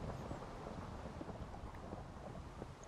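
A Minecraft thunderstorm of steady rain hiss with low rumbling thunder, dense and even throughout, with no voices.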